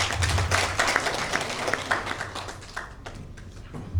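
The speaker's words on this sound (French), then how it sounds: "que je vous demande d'applaudir" Brief applause from an audience at a forum honouring the Governor, a short burst of clapping that thins out and fades within a few seconds.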